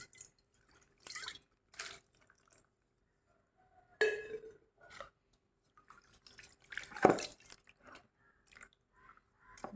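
Water is poured into a homemade Pitambari cleaning powder mix, splashing and trickling in short, scattered bursts, quiet and close, with a louder splash near the end and no voices.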